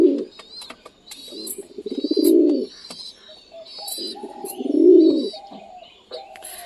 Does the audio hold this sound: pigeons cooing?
yes